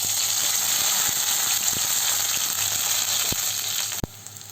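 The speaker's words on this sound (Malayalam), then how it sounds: "വെളിച്ചെണ്ണ ഒന്ന് ചൂടായിട്ട് വരുമ്പോൾ അരിഞ്ഞു വെച്ചിരിക്കുന്ന ചെറിയ ഉള്ളി അതിലേക്ക് ചേർത്ത് കൊടുക്കാം." Chopped small onions fry in hot coconut oil with a dense, steady sizzle, close up and loud, a few faint clicks beneath it, ending with a sharp knock before the hiss drops away.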